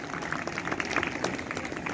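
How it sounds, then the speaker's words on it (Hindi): A school audience at a Republic Day celebration claps for a performance, with steady, dense applause throughout that sounds fairly soft and distant, without any voices on top. "बहुत सुंदर, जोरदार तालियां हो जाए इस धमाकेदार प्रस्तुति के लिए।"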